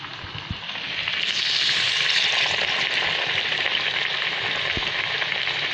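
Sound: dal vada frying in oil

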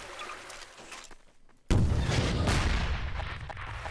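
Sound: gunfire while shooting a jammed lever in Garry's Mod video game

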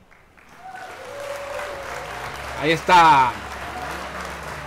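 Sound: applause sound effect for Oliver

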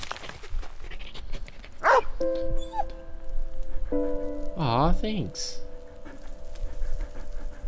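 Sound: dog barking and panting in video game Valiant Hearts

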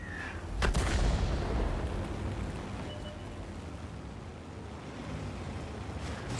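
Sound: tank shell hitting our tank in World of Tanks video game

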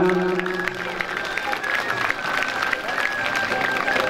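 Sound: audience applause

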